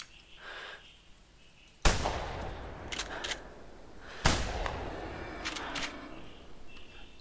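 Two sharp, loud hunting-rifle shots ring out a few seconds apart in The Hunter video game, set in the Rougarou Bayou, each one trailing off into an outdoor echo over quiet bayou ambience.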